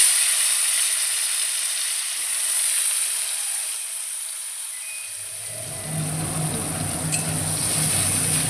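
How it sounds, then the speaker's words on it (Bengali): Chopped tomato lands in hot oil already tempered with a dried red chilli for a taro and potato curry. After a quiet start, a soft, steady sizzle rises midway and continues to the end. "এই যে তেলের মধ্যে এই যে কেটে রাখা কুচি করে টমেটোটা আমি দিয়ে দেবো"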